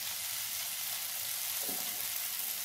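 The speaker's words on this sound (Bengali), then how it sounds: "বেশ ভালো করে ভাজা ভাজা করে নিতে হবে।" Cauliflower pieces frying dry in a pan give a steady, soft sizzle throughout, with a brief stirring scrape near the end and no talk.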